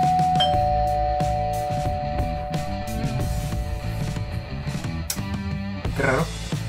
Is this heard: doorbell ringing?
yes